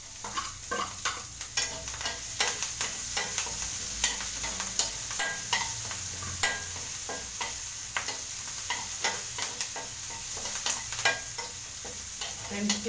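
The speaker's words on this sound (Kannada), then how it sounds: "ಇವಾಗ ಈರುಳ್ಳಿ, ಮೆಣಸಿನ್ಕಾಯಿ ಹಾಕೋಣ ಬನ್ನಿ" Onion, green chilli and curry leaves fry in a pan, a continuous bright sizzle under a regular rhythm of spatula scrapes and taps that repeats throughout.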